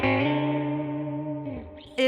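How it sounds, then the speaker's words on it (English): Electric guitar through a ring modulator pedal rings out a single sustained, metallic, inharmonic note that holds and then slides downward, with a brief chirp of a new note at the end, close and alone. "It still sounds weird. It still sounds like a ring mod, but it sounds usable."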